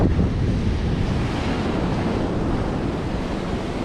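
Ocean surf breaking on a beach where people are surf fishing and surfing, a steady loud wash of waves mixed with heavy wind rumbling across the microphone, no voices.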